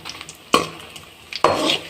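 Atta pakora frying slowly in oil over a low flame, a soft steady sizzle broken by two sharp clattering stirs of a utensil against the pan.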